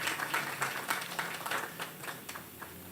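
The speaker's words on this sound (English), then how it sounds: "I think that deserves for them a round of applause." Faint audience applause at an outdoor renaming ceremony honouring the late Philip Tudor, a steady patter of scattered claps lasting about three seconds with no voices over it.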